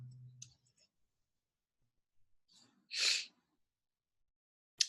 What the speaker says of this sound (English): I'm going to start sneezing here